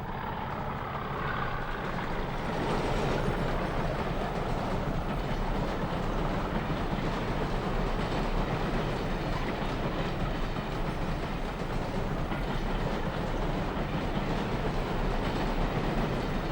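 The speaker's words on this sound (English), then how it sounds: "as a Class 40 hauls a Blue Circle cement train" A Class 40 diesel locomotive hauls a Blue Circle cement train in 1965, a steady loud rumble of engine and rolling wagons with faint clickety-clack running throughout.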